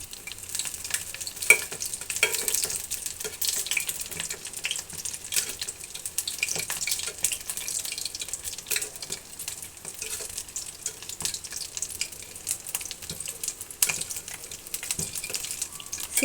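Palm fruit fritters fry in oil, a steady close sizzle with crackling pops and occasional stirring scrapes that runs on without a break.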